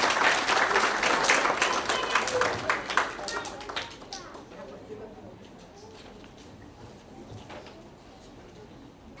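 Indoor audience applauding to welcome a guest on stage at a Guru Purnima gathering in Adelaide, loud dense clapping for about four seconds that fades to scattered claps and quiet murmuring.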